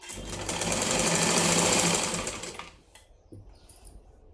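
Sewing machine stitching folded blouse lining cloth, a fast, loud, steady run of needle strokes for over two seconds that stops abruptly, followed by faint handling clicks.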